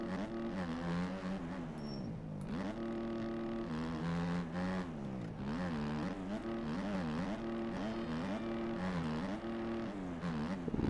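A motocross bike engine in the MX Bikes video game holds a loud, steady buzzing drone through a lap, its pitch rising and dipping repeatedly as the rider works the throttle.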